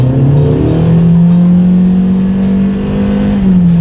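A 2018 Honda CR-V's 1.5-liter turbocharged four-cylinder pulling hard under acceleration from inside the cabin, a loud steady drone holding a continuous pitch before easing at a shift near the end.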